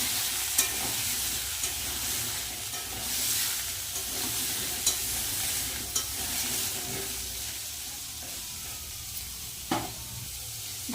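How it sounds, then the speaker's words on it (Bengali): Potato and papaya frying in a pan, a continuous soft sizzle with occasional sharp clicks and scrapes from stirring, no voices. "আলু আর পেঁপেটা ভেজে নেব"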